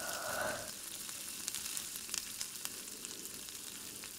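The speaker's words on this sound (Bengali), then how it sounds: "কড়াইতে এবার তেল দিয়ে দিলাম। ফ্রাই প্যানে তেলটা গরম হবে।" Oil heats in a frying pan for a sabudana snack, producing a steady, close sizzle with a brief louder burst at the start and occasional light scraping clicks from stirring.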